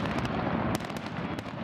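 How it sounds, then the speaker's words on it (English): Fireworks celebrating King Frederik X of Denmark crackle and pop in rapid bursts, with a couple of sharper bangs standing out over a dense, continuous sizzle outdoors. "Fireworks ended a day of festivities celebrating King Frederik X and his Australian Queen."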